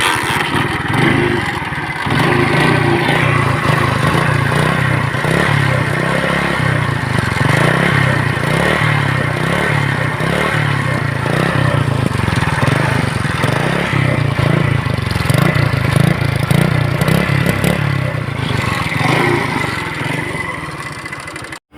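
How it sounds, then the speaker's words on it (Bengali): A 50cc motorcycle engine starts after a brief pause and then runs steadily at a close, loud idle with a chugging, rattling tone and no talking. "এবার স্টার্ট করে আপনাদেরকে দেখাই।"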